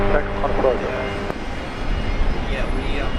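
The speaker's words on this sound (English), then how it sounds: "Qantas 509 Brisbane Tower, good day, runway 19 left, cleared for takeoff." A Qantas jet airliner takes off from Brisbane Airport, its broad engine roar steady and loud throughout, with a voice speaking briefly near the start.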